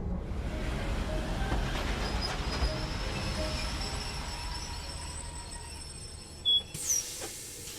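A train passes in the video game Love and DeepSpace, a steady low rumble with faint high squeals running throughout, ending in a couple of brighter, sharper tones near the end.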